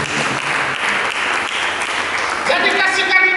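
A church congregation applauds steadily throughout, a dense wash of clapping with a voice or music faintly underneath, growing a little louder near the end.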